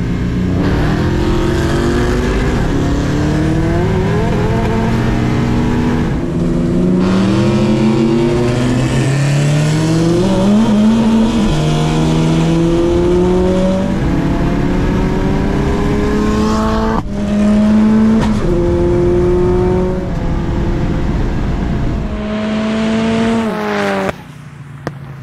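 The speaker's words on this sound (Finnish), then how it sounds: "Erikoisesti röpeltää Plymouth nyt." A Plymouth Satellite's V8 rumbles and revs hard through gear changes during a drag race against a Ford Fiesta, loud and close with rising, falling engine pitch for the whole stretch.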